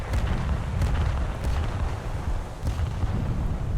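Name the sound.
volley of rockets fired from a destroyer in a naval video game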